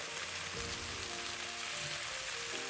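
Spinach frying in a pan, giving a steady, dense sizzle like rain on a surface that holds evenly through the whole stretch at close range with no talk.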